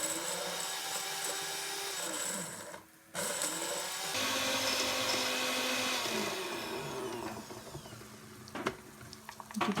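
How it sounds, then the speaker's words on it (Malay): An electric blender grinds sliced lemongrass and shallots with a loud motor whir, stopping briefly, then restarting and churning on, with rattling knocks near the end. "iris halus serai dan juga bawang merah kecil tadi sebab kita akan kisar dengan blender"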